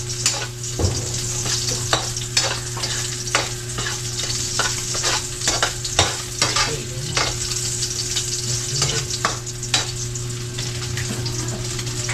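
Pork fat renders and fries in its own grease, a steady close sizzle with repeated sharp scrapes and knocks of a utensil stirring against the pan throughout.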